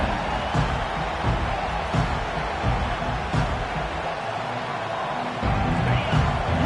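Steady roar of a large stadium crowd at a college football game in the video game NCAA 2K25, a dense continuous wash of voices with occasional louder swells and cheers rising through it.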